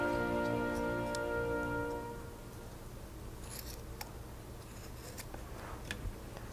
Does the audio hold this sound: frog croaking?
no